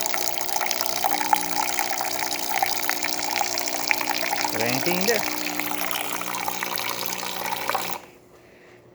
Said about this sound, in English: for hot water we're having a nice steady stream coming out of the one the way it's supposed to